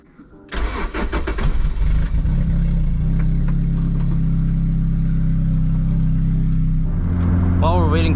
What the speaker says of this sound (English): While we're waiting for the car to warm up